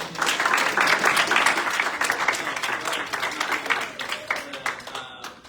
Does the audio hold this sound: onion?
no